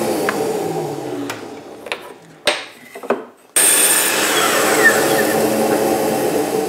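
A power saw whines through several brief cuts and winds down to near silence. Then a loud, steady motorized roar starts up and keeps running.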